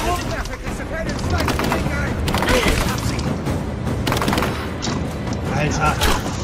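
Gunfire in the video game Rise of the Tomb Raider: dense, continuous bursts of shots and booms throughout, loud and busy, with voices talking over the action.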